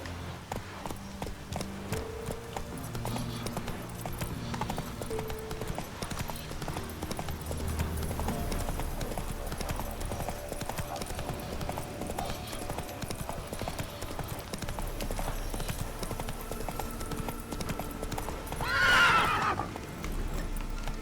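A horse gallops in the Witcher 3: Wild Hunt video game, steady rapid hoofbeats running continuously at close range under ambient game music, with a whinny near the end.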